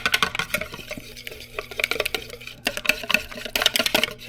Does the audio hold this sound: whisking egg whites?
yes